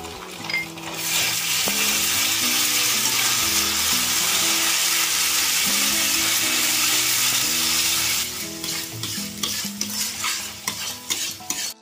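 Ginger-garlic paste fries with onions in a pan, a loud continuous sizzle with scraping stirring strokes that grow more intermittent toward the end, with no one talking.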